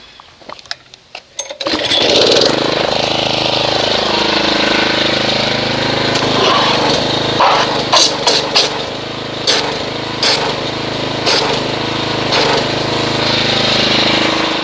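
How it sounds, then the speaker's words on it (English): After a few clicks and knocks, a gasoline pressure washer starts up and runs loudly with a steady engine drone and occasional sharp bursts while agitating a snow foam soap mix. "we will agitate this with a pressure washer"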